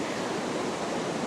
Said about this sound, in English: I love the sound of the water falling down the steps of the weir